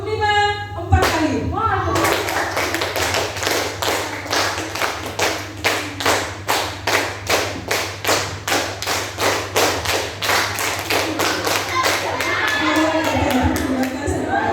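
Students in a school positive-culture session clapping together in a steady rhythmic pattern, groups of five claps repeated four times, a long run of crisp evenly spaced claps with a voice briefly heard at the start and end.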